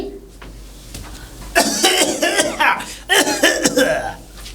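Someone coughs in two harsh, rapid bursts of several coughs each, close by, with faint background noise between them.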